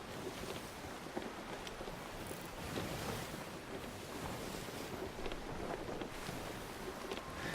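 Water sloshing and rushing around a ship at sea in the pirate video game Sea of Thieves, a steady broadband wash of waves with wind noise, continuous and fairly close, no talking.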